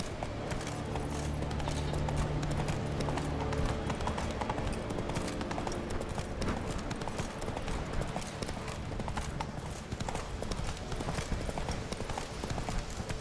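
Steady hoofbeat clip-clop of a horse being ridden in The Witcher 3: Wild Hunt, a continuous even gallop rhythm at moderate level, with a faint voice briefly over it early on.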